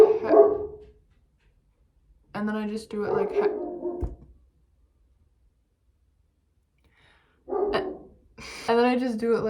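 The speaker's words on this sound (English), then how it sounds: "my dog is going off right now" Dog barking indoors in several loud, close bursts separated by silent gaps, the barks coming in quick clusters.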